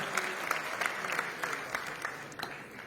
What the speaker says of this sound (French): On peut encore faire un tonnerre d'applaudissements, s'il vous plaît, pour Ahmed